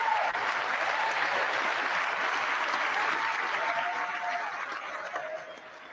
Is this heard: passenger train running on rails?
no